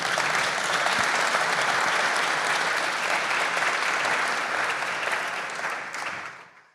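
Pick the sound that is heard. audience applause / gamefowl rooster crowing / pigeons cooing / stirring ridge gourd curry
audience applause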